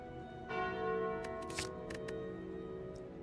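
A bright bell tone from the Slay the Spire cursed bell relic rings out softly, followed by a few quick faint clicks and chimes over a quiet sustained game music bed.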